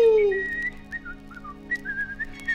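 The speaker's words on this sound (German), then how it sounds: "Dabei pfiffen sie ein Lied," A tune is whistled in clear, melodic phrases, bright and close, with short pauses between the notes and nothing else heard.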